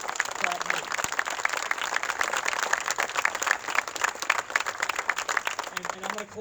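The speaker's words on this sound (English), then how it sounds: "So I want to give them a round of applause for everything that you all taught" A crowd at a primary election victory event applauds, sustained dense clapping with cheering voices woven through, staying steady and fairly loud for several seconds before dipping slightly near the end.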